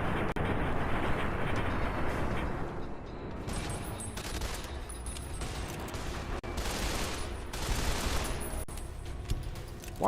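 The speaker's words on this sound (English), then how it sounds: "Why are you shooting me?" Dense, continuous gunfire from Fallout: New Vegas roars close and loud, with overlapping shots blurring into a steady barrage and no talking.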